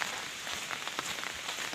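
Rain falling steadily in a soft, even patter of drops on surfaces, faint and continuous with no voices.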